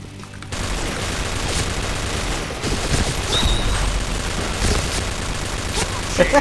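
Rapid gunfire from the K-3 rifle in the video game Point Blank, a dense continuous burst of shots running through the whole stretch, loud and close, with a few sharper cracks near the end.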